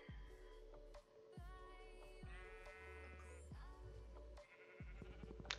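Sheep in a Minecraft farm bleat again and again, several separate wavering calls spaced through the clip, clear and close, with no voices over them.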